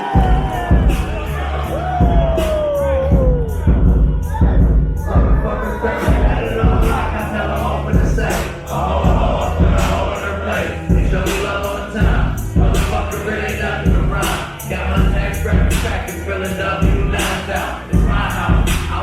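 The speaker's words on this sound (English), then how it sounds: "And we gotta give him a round of applause as he comes out to the stage." A concert crowd cheers and shouts continuously as a rapper comes out to the stage, loud and dense throughout with whoops rising over the roar and music underneath.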